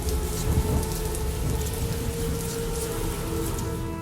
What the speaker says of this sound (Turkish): Karanlık ve yağmurlu bir gece yarısı.